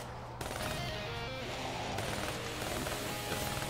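Rapid automatic gunfire in Black Ops 3 Zombies, a dense, continuous stream of shots running loudly through nearly the whole stretch after a brief quiet start.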